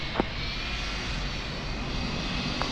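Airliner jet engine spooling up during pushback in a flight simulator game, a steady loud roar with faint ticks, no voices.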